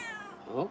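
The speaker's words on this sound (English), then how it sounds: "She does kind of have like an old lady cat meow now" A cat's short meow, an older cat's slightly rough cry rising near the end after a brief higher tone, close and clear during a casual indoor livestream.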